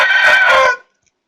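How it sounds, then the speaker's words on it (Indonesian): A backyard chicken lets out one loud, harsh squawking crow, close by and alone, cutting off abruptly after under a second. "Maaf ya, ada ayam saya yang teriak-teriak gitu"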